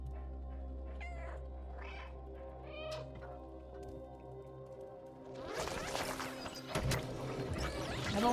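A cat character meows several times in the video game Stray, the calls clear over a steady low game hum, followed by louder clattering and crashing game sounds in the second half.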